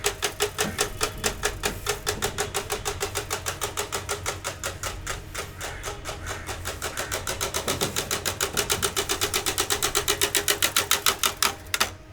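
Bicycle rigged to mimic a KTM Duke motorbike, giving a fast rattling clatter like a small engine that speeds up and slows with pedalling, loud and close with no talk.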